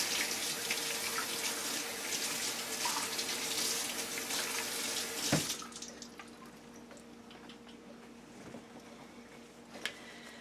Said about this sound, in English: rinse it really, really, really well